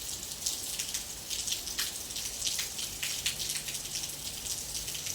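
Light afternoon rain patters as scattered, irregular drips and taps on surfaces nearby, steady and fairly soft throughout, with no one talking.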